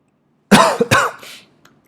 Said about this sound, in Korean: 기침이 죄송합니다.